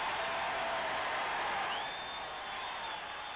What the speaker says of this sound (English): listen to this crowd in Fort Worth